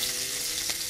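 Fenugreek and onion frying in oil give a steady, close hiss and sizzle, continuous and even with a faint crackle partway through.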